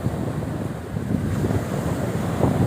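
Sea waves wash onto a beach in a continuous, rough rush of surf, close and steady, with wind buffeting the microphone throughout and no voices.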